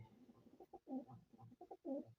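Soft, throaty coos of pigeons repeat in a slow rhythm, close by, with brief pauses between the rounded calls.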